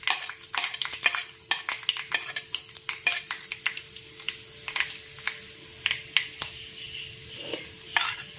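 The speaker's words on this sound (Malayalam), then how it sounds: "അപ്പോൾ കടുക് പൊട്ടിത്തുടങ്ങി" Mustard seeds splutter in hot oil in a pan while making rava upma, giving sharp, irregular pops and crackles over a soft sizzle, with a steady faint hum underneath.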